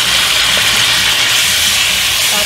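Green chile peppers and onion, about twelve peppers cooked down, sizzle in hot oil, a steady loud broadband hiss with crackle filling the whole stretch, close and continuous with no talking.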